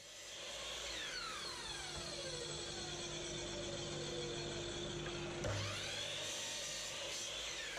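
A power tool, likely a saw, cuts wooden strips to length for a bread cutting board, running as a loud, steady whine for almost the whole clip with one brief surge near the end.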